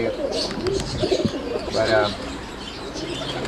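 Roller pigeons in a breeder's loft coo softly in low, rolling calls, with a brief flutter of wings and scattered chirps nearby, while someone talks over them.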